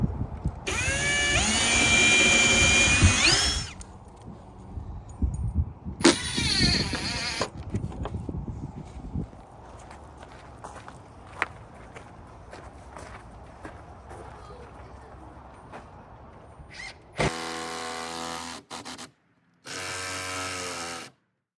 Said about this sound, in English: I'm just gonna drill some pilot holes